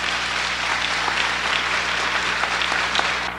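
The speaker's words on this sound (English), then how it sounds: "Give yourselves a big round of applause." Brief, lively applause from an audience at a 1989 Designer Network International gathering, a few seconds of dense clapping over a low steady hum.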